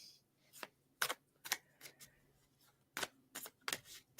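Cards being shuffled in quick riffling bursts, several sharp flutters spaced irregularly, close and moderately quiet, with no voices.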